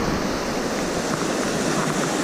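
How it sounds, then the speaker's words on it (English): Fast-flowing river water on the Fryingpan on a rainy evening: a loud, steady rushing wash that fills the whole stretch, with no talk. "There's the river."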